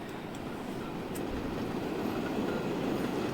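Trains running in Transport Fever 2, a steady rumbling roll that grows slightly louder, heard alone without talk.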